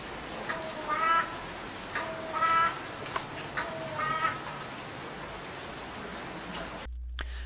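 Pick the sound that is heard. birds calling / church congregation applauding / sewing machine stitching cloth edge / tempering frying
birds calling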